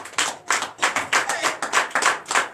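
A church congregation at a Sunday service in Comè, Benin, claps in steady rhythmic bursts, loud and close, roughly two claps per second with no voices over it.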